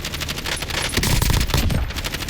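Rapid automatic gunfire from a weapon in Call of Duty, a dense, loud, continuous burst of shots in quick succession lasting the whole moment.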